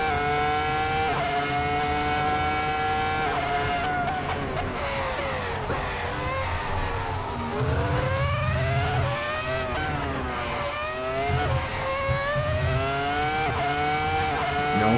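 A Formula 1 car engine roars in the I-Way racing simulator, loud and close, climbing and dropping in pitch through repeated upshifts and downshifts as the revs rise and fall.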